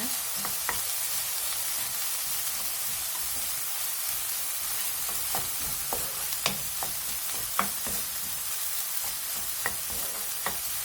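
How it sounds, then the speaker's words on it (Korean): Tofu fried rice ingredients with ham and a pinch of salt sizzle in a pan under a continuous soft hiss, with scattered light scrapes and clicks of stirring throughout and no voices. "소금을 약간 넣고 볶아줍니다."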